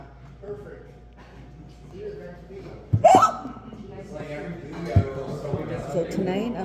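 A person hiccups sharply about twice, one loud catch mid-clip and another shortly after, over steady background chatter and voices in a social setting.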